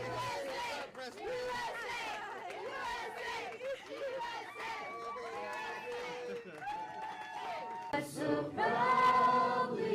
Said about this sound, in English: The crowds held their flags, waving and cheering, as Brandon and his family walked into their